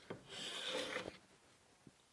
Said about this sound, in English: Let's give it a test drive on a piece of wood. I've got a piece of hickory in my end vise.